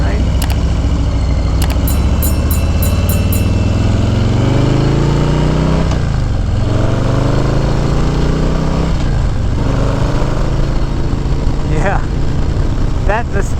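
A 2021 Harley-Davidson Low Rider S with a Stage 2 upgrade is heard from the saddle on a test ride, its exhaust note loud and steady with rising revs and brief dips between gear changes, under wind noise and occasional talk.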